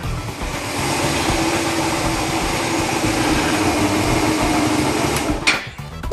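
A Honda motorcycle engine from a home build runs steadily and fairly loud with a droning hum, then cuts off abruptly near the end.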